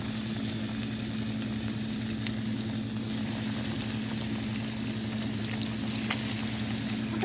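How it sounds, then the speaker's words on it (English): Croquettes fry in hot oil, a steady dense sizzle running evenly throughout with a low hum beneath and no talking. "All right, oil's ready. Let's get our little croquette looking things in."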